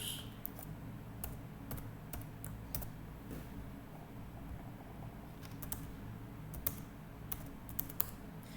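Keys tapped on a computer keyboard in quiet, irregular clusters of soft clicks over a low room hum, close and fairly faint, with no talking.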